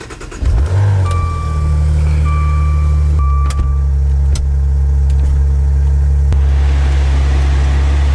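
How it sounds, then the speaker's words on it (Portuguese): Car engine starting and then idling steadily so the air conditioning can cool the cabin, a strong low hum close by that runs throughout with a few brief clicks and a thin tone over it; no talking. "vamos pegar e dar uma partidinha no carro aqui e deixar o ar dando uma esfriada"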